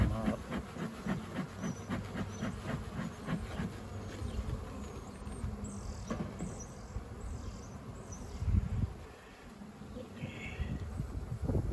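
Bees buzz around hive frames from a newly settled swarm in a busy, continuous drone, with a harsher pulsing hum early on and scattered higher whines and knocks later.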